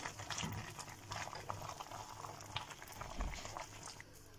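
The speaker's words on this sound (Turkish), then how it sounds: "Lahananın kaynamaya başladı." A steady bubbling boil from a pot of cabbage, continuous and close, with soft liquid churning throughout and no voices.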